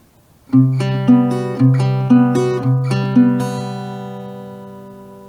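A plucked guitar picks out a repeating fingerstyle pattern, note attacks falling in a steady rhythm before the last notes ring out and fade.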